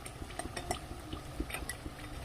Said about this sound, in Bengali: কড়াই থেকে আমি নাড়ছি আওয়াজ হচ্ছে, এত সুন্দর মানে খাস্তা হয়ে গেছে